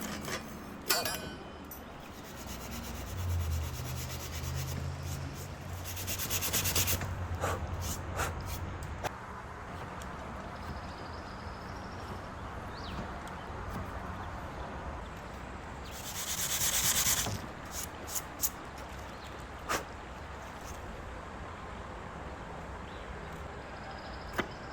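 A 320 grit sanding pad rubs over sealer on a vintage wooden sideboard, giving steady close scratchy strokes that rise and fall in several bursts over a soft room background.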